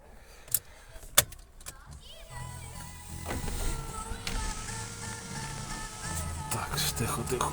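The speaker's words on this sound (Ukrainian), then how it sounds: "Але ми маємо панораму, яка від'їжджає." The panoramic sunroof of a 2009 Renault Modus (Grand Modus) slides open: a couple of sharp clicks, then a steady low motor whir that builds and runs on inside the car.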